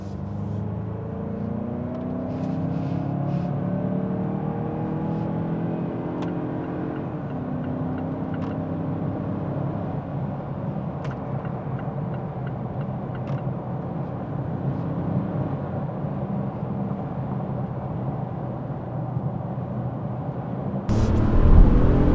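Steady engine drone and road rumble from a moving car, continuous and fairly loud, swelling briefly at the very end.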